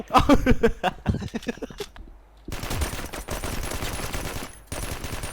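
A machine gun fires in the game Straftat: a run of rapid distinct shots, a short pause, then a long dense stream of continuous automatic fire that stays loud to the end.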